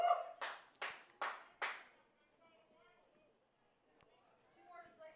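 A baseball crowd at a Lethbridge Bulls at Brooks Bombers game claps in rhythm to rally for pitcher Hughes: four sharp, spaced claps ring out, then soft crowd chatter and a dog barking in the distance.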